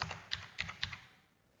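A password is typed on a computer keyboard as a quick run of about four soft, close keystrokes that fades into quiet.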